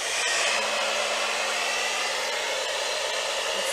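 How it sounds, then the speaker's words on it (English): A hair dryer blows continuously at close range, a steady airy roar with a faint whine, no voices. "I'm just going to use a blow dryer for a few."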